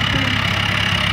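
A 1953 military Land Rover engine runs steadily at idle, a low, even rumbling throb that stays constant and close for the whole short stretch, with no talking.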